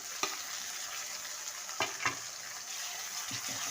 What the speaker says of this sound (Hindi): इसको हमें भूनना है।